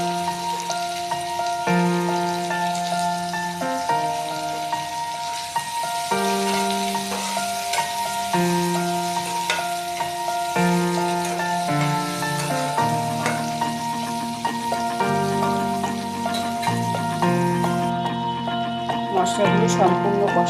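Spices sautéed in a pan for dal egg bhurji, with a steady soft sizzle and stirring running throughout under strong, continuous tonal background music.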